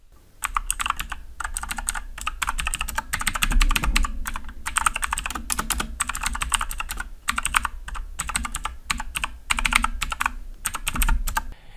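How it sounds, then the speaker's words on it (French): Steady typing on a budget mechanical keyboard in bursts of rapid clacking keystrokes, close and crisp, with brief pauses between runs and no voices. "Je vais vous faire un petit enregistrement du bruit du clavier"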